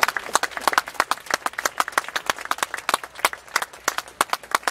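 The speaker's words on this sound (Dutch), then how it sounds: "Nochmal einen ganz herzlichen Applaus." Applause from an outdoor audience after a steelband and hammered dulcimer performance at Bern's Bundesplatz, a dense crowd of hand claps with a sharp, uneven rhythm, fairly close and steady throughout with no voices.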